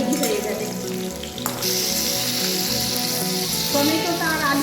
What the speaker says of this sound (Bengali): টমেটোটা আর আলুটা ঠিকঠাক ভাজা হয়ে গেছে।